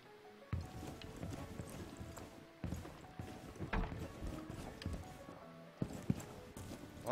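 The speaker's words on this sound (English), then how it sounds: "I'm seriously tripping out right now, I can hear footsteps." Enemy footsteps in the video game Rainbow Six Siege on the Chalet map, a series of faint, irregular thuds and clip-clop steps at uneven intervals under quiet game ambience.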